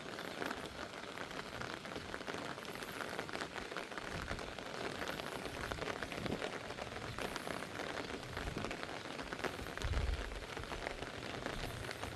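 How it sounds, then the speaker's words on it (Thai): Steady overnight rain pattering on a surface near rice fields, a dense continuous hiss of drops with a brief low thud near the end, no voices. "โอ้ฝนมาทางนี้พี่น้อง"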